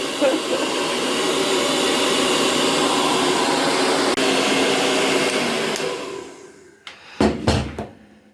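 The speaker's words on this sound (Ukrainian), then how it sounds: "я взяла фен і почала сушити феном капці" A hair dryer blows with a steady, close whoosh for several seconds while drying slippers, then shuts off, followed by a few brief knocks and rustles.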